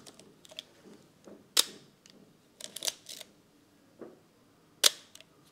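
Several sharp, close mechanical clicks from a Leica M6 rangefinder camera shutter firing, spaced irregularly with brief quiet gaps, one loud snap early and another near the end.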